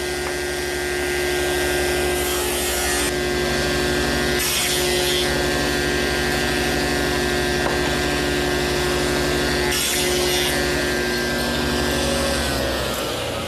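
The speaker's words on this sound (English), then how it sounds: "It'll take several cuts to form the tenons on each." A loud power saw runs continuously, making repeated cuts in wood to form tenons on chair stretchers and rails against a stop block, with a steady motor whine and brief dips and surges as each cut is made.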